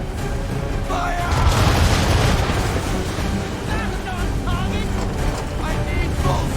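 Broadside cannon fire from a sailing warship in Assassin's Creed III: a sustained barrage of deep booms that swells near the start, rolling over steady sea and ship noise while a voice shouts commands.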